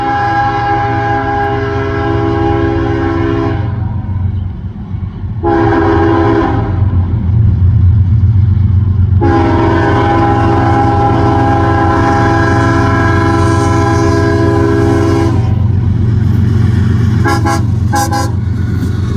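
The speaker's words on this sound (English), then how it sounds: "we got a miniature train coming. WO-38 work train. Looks like we got a Gevo leading." A CSX WO-38 work train led by a GE Evolution locomotive rumbles past, loud and close, its horn blaring in long sustained blasts over the heavy engine drone.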